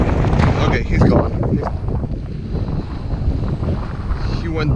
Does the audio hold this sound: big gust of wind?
yes